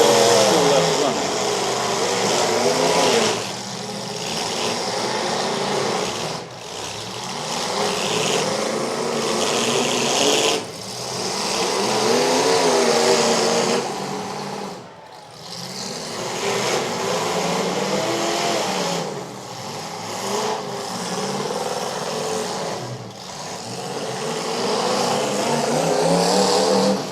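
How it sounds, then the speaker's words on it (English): Demolition derby car engines running and revving at a county fair, loud and continuous with rising and falling surges and occasional brief dips, mixed with background crowd and arena noise. "Automobile still left running."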